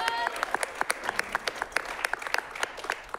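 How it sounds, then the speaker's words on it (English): A small audience at an improv comedy show claps in a scattered, uneven patter of applause, with a voice heard faintly underneath. "Let's give him a round of applause."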